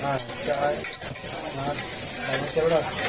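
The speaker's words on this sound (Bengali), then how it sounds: "দেখেন এরা আলু পুরি ভাজছে কি সুন্দর" Aloo puri frying in hot oil at a street food stall, a steady loud sizzle with stirring and occasional clinks, no talk over it.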